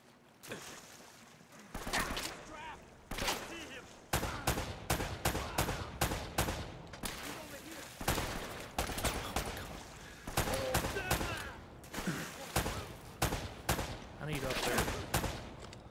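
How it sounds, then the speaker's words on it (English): Gunfire in Uncharted: Drake's Fortune, sharp single shots and quick bursts cracking out repeatedly in an irregular rhythm over a firefight background, loud and near, with a person talking at times. "I'm shooting him in the head like four times and he's not dying"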